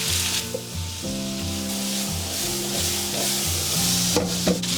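Green beans and potatoes stir-fried in a wok, with a loud bright sizzle and repeated scraping toss strokes, close up and busy throughout. A low tonal hum sits underneath, and no one speaks.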